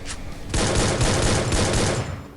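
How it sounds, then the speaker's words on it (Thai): Loud bursts of video game gunfire and blasts, a dense rapid barrage that starts abruptly and continues steadily without pause. "เสียงระเบิดอะไรมันโอ้โหแสบหูแก้วหูหมดเลย"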